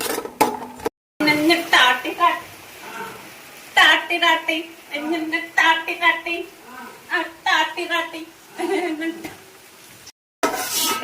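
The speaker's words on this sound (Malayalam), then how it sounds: "ഫസ്റ്റ് അണ്ടിപ്പരിപ്പ് വഴറ്റിയെടുത്തതിന് ശേഷം നമുക്ക് മുന്തിരി നെക്സ്റ്റ് ചെയ്യാം കേട്ടോ" Cashews are stirred while they sauté in a pan, with repeated scraping and clinking of a utensil against the metal, faint sizzling underneath, and someone speaking Malayalam over most of it.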